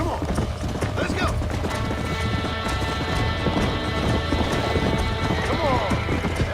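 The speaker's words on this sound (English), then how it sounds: "Flippin' look at the horse. Stallion." Stallion hooves clip-clopping in the Red Dead Redemption video game, a dense steady rhythm of hoofbeats with occasional whinnies over game music, close and loud throughout while someone shouts excitedly.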